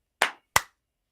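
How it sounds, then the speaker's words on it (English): Two sharp hand claps in a quiet room, each a crisp isolated slap with a short decaying tail, spaced about a third of a second apart. "How about a nice clap?"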